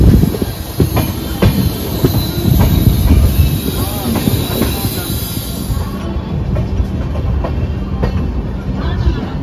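A passenger train departing Bandel Junction on a Guwahati to Sealdah special service rolls along the rails, loud and close, with rhythmic clacking, rumbling wheels and a faint squeal, steady throughout.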